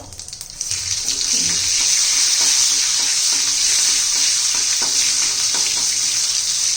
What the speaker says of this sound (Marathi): छान तांबूस रंगावर होईपर्यंत आपल्याला लसूण परतून घ्यायचं आहे